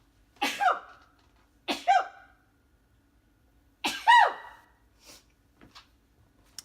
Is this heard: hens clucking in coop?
no